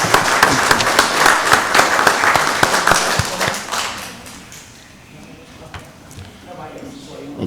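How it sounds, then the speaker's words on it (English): An audience at a county board of commissioners meeting applauds, a burst of dense clapping for about four seconds that fades away into quiet room tone, with speech heard in the room. "Let's give them a round of applause."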